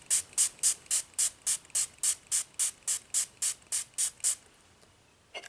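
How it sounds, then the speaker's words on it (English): A handheld plastic spray bottle of water is pumped in a fast, even series of about sixteen close, crisp hissing spritzes, then stops, with nothing else heard. "I always like to have a spray bottle of water ready to go"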